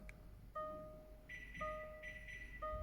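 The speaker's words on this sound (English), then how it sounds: "Beeps." Faint electronic beeps repeat at regular intervals as a used Jaguar key fob is programmed to a Land Rover, short clear tones in a steady pattern over a quiet background hum.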